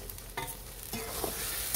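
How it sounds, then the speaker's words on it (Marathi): Eggplant stirred into hot masala frying in oil for Marathi masala vangi, with a continuous bright sizzle broken by a few scraping stirs, close and steady with no talking. "त्याच्यामध्ये आपण वांगी टाकून घेणार आहोत."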